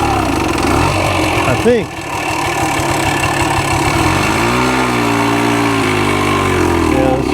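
A long-unridden 1965 Montgomery Wards Benelli scrambler motorcycle runs loud and close, its engine pulsing in a fast steady rhythm before the pitch shifts and climbs as it pulls away, with someone talking briefly over it.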